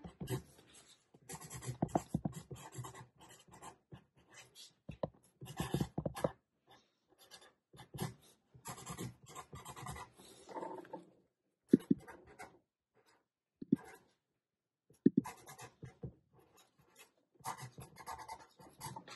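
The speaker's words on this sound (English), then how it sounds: "And so you can just write in there." Pen scratching across paper as a message is written inside a handmade Mother's Day card, close and quiet, in short irregular strokes with brief pauses.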